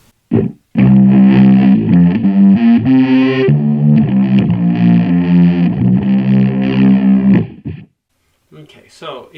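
A bass guitar through a reverb effect on a Positive Grid Spark Mini amp plays a washed phrase with lingering, blurred notes for several seconds, then fades as a voice starts talking at the end.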